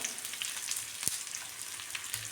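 Thinly sliced onion fries in a pan with a close, steady sizzle and crackle, a single sharp knock of a utensil partway through, and no speech.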